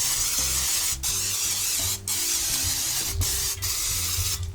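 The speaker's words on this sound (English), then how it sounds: "And I'm gonna spray it one more time with my cooking spray." Bursts of cooking spray hiss over seasoned tilapia fillets, four to five continuous sprays with brief gaps, close and fairly loud, with low background hum and no talking.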